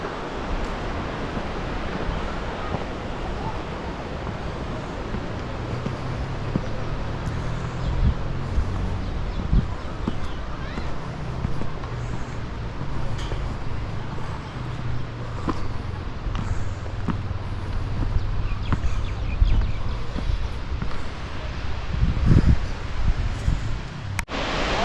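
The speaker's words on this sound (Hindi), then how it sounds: "हम ये बिरदी वाटरफॉल पे हैं।" Birthi waterfall in Munsiary, Uttarakhand, a roughly 125-metre drop, gives a steady broad rushing roar throughout, loud and continuous with no talk over it.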